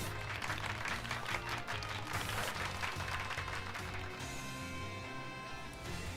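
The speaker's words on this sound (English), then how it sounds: "Give Pikachu a round of applause" A crowd gives a round of applause, dense clapping that holds steady and fairly loud throughout before easing slightly near the end.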